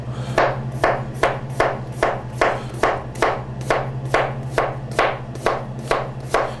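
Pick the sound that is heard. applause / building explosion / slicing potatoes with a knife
slicing potatoes with a knife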